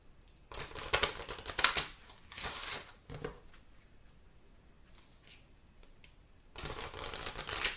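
A Chinese fortune card deck is handled and shuffled, giving bursts of crisp papery riffling and flicking that come in clusters separated by quieter pauses, close and fairly loud with no talking.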